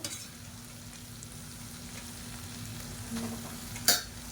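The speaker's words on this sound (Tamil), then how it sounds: "அந்த சாதத்தை போட்டு நல்லா மிக்ஸ் பண்ணிவிட்டுக்கலாம்" Cooked basmati rice mixed in a pan for soya chunk pickle rice, a faint, low sizzle with soft stirring scrapes and one sharp clink of utensil on pan near the end, no talking.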